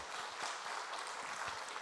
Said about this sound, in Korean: 다시 한번 격려 박수 하겠습니다